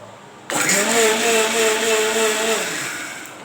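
A mixer grinder whirs up salt and turmeric powder in one steady burst, starting abruptly and running loud for about two seconds with a droning motor hum before winding down.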